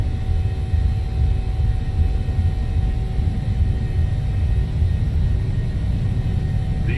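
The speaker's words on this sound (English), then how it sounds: "Alright, thrust is set. 80 knots." PMDG 737-700 jet engines at takeoff thrust in Microsoft Flight Simulator roar as a loud, steady low rumble with a constant whine layered above, unbroken for the whole stretch and with no talk.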